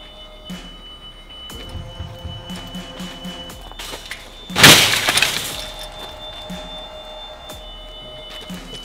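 A single sharp crash of window glass smashing rings out midway as glass is knocked out of a fallen window frame, with shards tinkling briefly, against a quiet background hum.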